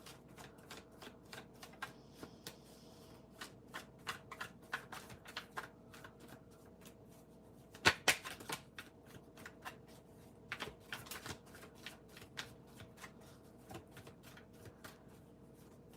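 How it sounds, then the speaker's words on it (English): Soft, repeated riffling and tapping of tarot cards being shuffled, quiet and close, with a few sharper clacks scattered through. "Let me just shuffle these cards"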